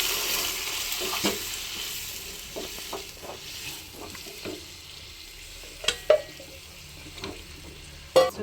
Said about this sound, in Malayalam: ഈ മസാല ചേർത്ത് കുറച്ചൊന്ന് അടിച്ചു കൊടുക്കുന്നുണ്ട്. ഇതിലേക്ക് ഞാൻ വേവിച്ച് വെച്ച കടല ചേർക്കുന്നുണ്ട്.